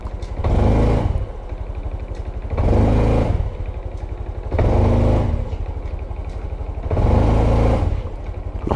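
Honda CT125 motorcycle engine idling near and loud, surging in four regular revving bursts about every two seconds with a steady chugging in between.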